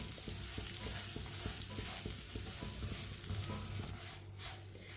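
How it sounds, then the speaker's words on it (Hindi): Dry fruits roast in a pan for khashkhash halwa, giving a steady, close sizzle with a light rhythmic scrape of stirring throughout. "एक मिनट के लिए मैंने भून लिया ड्राई फ्रूट को भी।"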